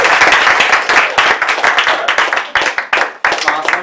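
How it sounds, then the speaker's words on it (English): Audience applause at a Toastmasters club meeting, a dense burst of many hands clapping close by that carries on steadily with sharp claps throughout, with some voices mixed in. "Yes, we can clap for Stacy now."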